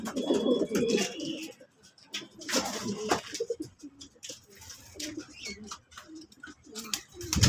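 Breeder racing pigeons in a loft coo repeatedly in low, throaty bursts, with a few chirps mixed in and faint background voices.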